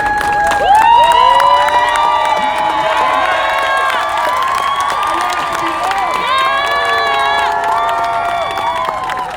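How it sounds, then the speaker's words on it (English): A large crowd at an outdoor rally cheers and whoops loudly, with shouting voices and applause sustained throughout. "give yourselves a round of applause for being here today"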